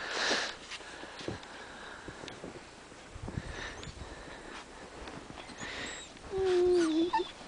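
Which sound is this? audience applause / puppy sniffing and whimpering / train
puppy sniffing and whimpering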